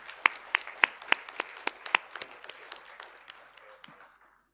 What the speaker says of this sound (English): Everyone give them a round of applause for solving the challenge.